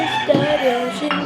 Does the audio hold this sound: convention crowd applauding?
no